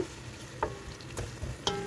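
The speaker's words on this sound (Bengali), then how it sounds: "কড়াইয়ের ভিতরে দিয়ে দিয়েছি তেল পেঁয়াজ আর হচ্ছে তেজপাতা দিয়ে ভেজে নিব" Onion and bay leaves frying in oil in a wok, with a low steady sizzle and a few sharp stirring clinks spread across the short stretch.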